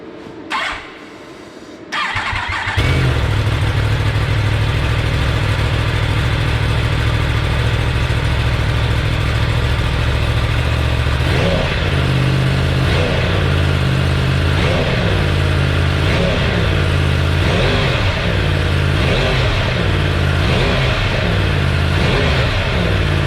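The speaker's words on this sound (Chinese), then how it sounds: "我想要先记录一下说原厂的排气管的声音的这个部分。" A Yamaha YZF-R1 motorcycle on its stock exhaust fires up and settles into a loud, steady idle, then gets a series of short throttle blips that rise and fall rhythmically toward the end.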